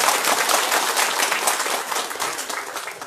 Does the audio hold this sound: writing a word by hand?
no